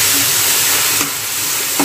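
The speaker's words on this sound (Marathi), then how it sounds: "डाळीला चांगली आपण यामध्ये फ्राय करून घेऊया।" Chana dal frying in a pan gives a loud, steady sizzling hiss up close, with a couple of faint stirring scrapes and no speech.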